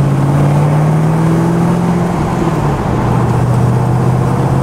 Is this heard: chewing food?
no